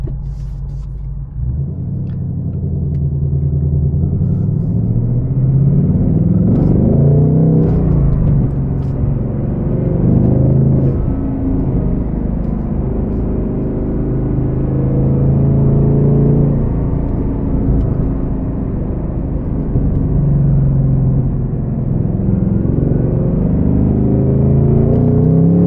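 A 2024 Ford Mustang Dark Horse with a six-speed manual heard from inside the cabin while driving: a deep, loud, steady engine rumble that rises and falls through revs and gear changes, with no talking.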